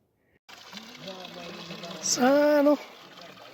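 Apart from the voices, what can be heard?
water flowing from a spring-source tap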